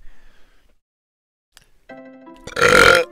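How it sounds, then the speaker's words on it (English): A single loud, guttural burp erupts near the end in the Final Fantasy V game, preceded by soft electronic game tones and short blips. "First burp."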